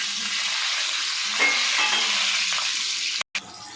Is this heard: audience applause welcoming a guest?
no